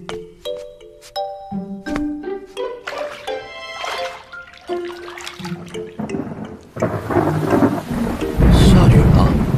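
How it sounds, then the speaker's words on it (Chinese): Heavy rain and thunder sweep in after a run of chiming musical tones, building into a loud rushing downpour with deep rumbling toward the end. "下雨了"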